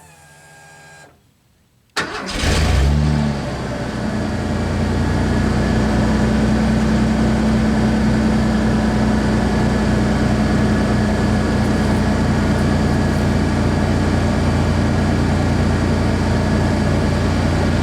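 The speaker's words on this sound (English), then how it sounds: "I'm going to do a startup so you can hear the exhaust tone" After a brief quiet, a Ford F-150 pickup's 4.9-litre inline-six with a cat-back exhaust cranks and fires up abruptly, then settles into a steady, deep idle rumble that continues unbroken.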